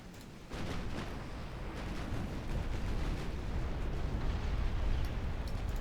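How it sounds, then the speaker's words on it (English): A torpedo explodes in a naval war video game set in a Greek campaign, a deep sustained rumbling blast that starts abruptly and rolls on loudly without letting up, with no talk over it. "Oh, another torpedo."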